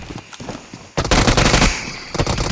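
Rapid automatic gunfire from the mobile battle royale game BGMI bursts in loud and close after a quieter opening, a dense volley of shots with a few scattered cracks before it.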